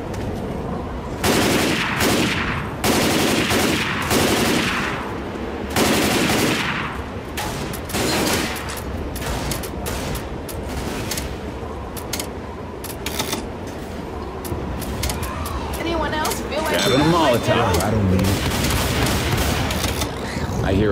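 Gunfire in Left 4 Dead 2, repeated loud bursts of automatic shooting in clusters across the scene, with voices talking between and over the shots.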